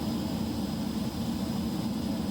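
A JustFlight Hawk T1 jet in a flight simulator game gives a steady, loud engine roar with a thin high whine running through it, constant and unbroken throughout.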